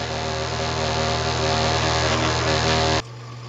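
A Logan 2557TH lathe cutting a workpiece that chatters, a loud, steady buzzing rattle with a harsh tonal whine that cuts off abruptly near the end, leaving only a quieter machine hum.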